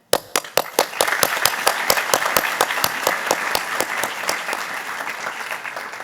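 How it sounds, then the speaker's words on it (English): Applause at a healthcare startup event honoring biotech and medtech entrepreneurs begins with a few sharp individual claps and quickly swells into sustained, rhythmic crowd clapping that holds steady to the end. "Please give them a big round of applause for their passion, dedication, and groundbreaking contributions to science and healthcare"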